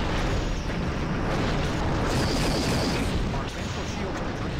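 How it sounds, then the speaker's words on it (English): Quantum torpedoes strike the heavy armor of the Reman Scimitar in a Star Trek starship combat game, producing a dense, continuous roar of explosions and rumbling impacts that stays loud and unbroken throughout. "even those quantum torpedoes are just absorbed by the armor"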